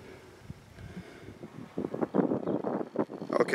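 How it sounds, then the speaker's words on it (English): Wind gusts buffet the microphone at an outdoor shooting spot during .17 HMR rabbit shooting, with low uneven rumbles that grow stronger and more frequent in the second half, and no talking. "Okay, there's that wind I was telling you about."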